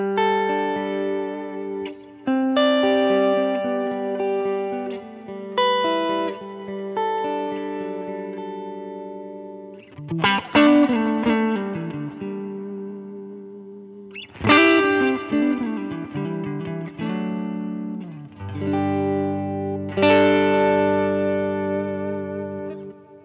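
A clean electric guitar tone shaped by an HX Stomp preset rings out in picked notes and sustained chords, soaked in reverb that lets each phrase bloom and decay, played alone.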